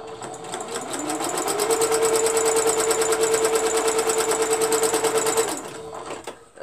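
A sewing machine stitches a quilt pinwheel block, running at a steady, rapid, buzzing rhythm for about five seconds before stopping, loud and close.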